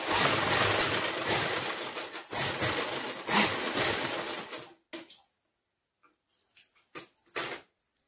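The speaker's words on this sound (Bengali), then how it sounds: "আমি এটাকে সেলাই করে দেবো এবারে।" An electric sewing machine stitches a skirt waistband, running in a loud close rapid whir for about five seconds with brief pauses, then a few short bursts of stitching amid quiet.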